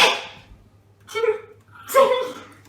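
A short sneeze-like burst at the start, in a kitchen while peppers are chopped, followed by a couple of brief voiced exclamations, with a low steady hum underneath.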